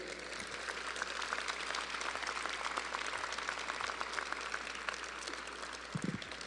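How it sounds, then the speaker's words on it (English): Law school graduates at a 2015 commencement ceremony give their family members a round of applause. The clapping is a steady, distant wash of many hands that carries on throughout without speech. "let me ask all of the graduates to give your family members a round of applause."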